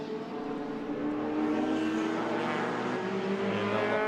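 Sports compact race cars at Winton Motor Raceway, a steady engine drone heard from a distance as the cars run through the back section of the circuit, holding one even pitch with no talk over it.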